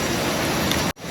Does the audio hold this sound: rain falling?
yes